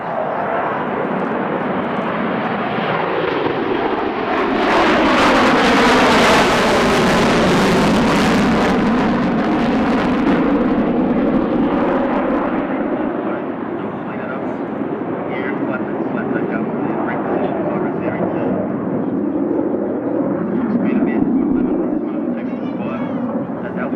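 A RAAF F-111 'Pig' jet passes with a deep, swelling engine roar that peaks loudly and then fades into a long, shifting rumble, with a crowd talking over it outdoors.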